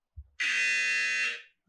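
A trivia game buzzer sounds once in a sustained, loud electronic tone for about a second, clear and alone after a brief low thump.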